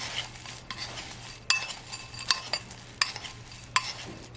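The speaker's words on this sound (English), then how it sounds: "Give that a quick stir" Buttered crumbs for a mac and cheese topping get a quick stir in a bowl, giving several close, sharp scraping clinks of a utensil against the side over a soft gritty rustle.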